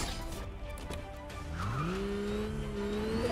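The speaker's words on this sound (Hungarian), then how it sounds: "Mi ez a kocsi? Mi ez?" A car in the Fortnite video game revs up from a low rumble to a rising, sustained engine drone, loud and close, with game background noise underneath.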